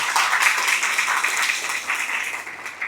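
A church congregation claps in applause after a sermon reading, a dense steady patter of many hands that holds for the whole stretch and fades slightly toward the end.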